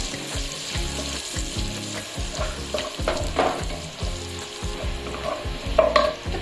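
Onion sizzles in a pan with chopped ginger and garlic for fried rice, with repeated scraping stirs and a steady crackling fry, close and clear, with no talk.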